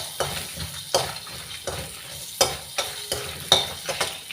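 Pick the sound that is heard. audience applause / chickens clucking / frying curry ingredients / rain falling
frying curry ingredients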